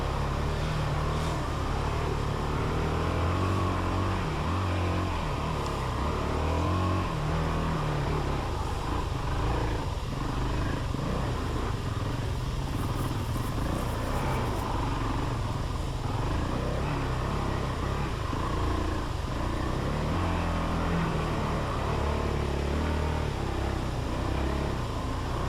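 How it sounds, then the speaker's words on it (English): A 450L street-legal dirt bike being ridden, a continuous nearby engine rumble that rises and falls slightly with throttle over the whole stretch, with no clear talking. "This one, 450L, being a street legal dirt bike,"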